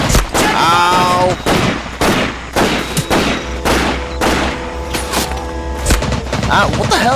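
Rapid bursts of gunfire in the World War II shooter game Medal of Honor: Pacific Assault, loud close shots and volleys repeating every half second or so in an unbroken barrage.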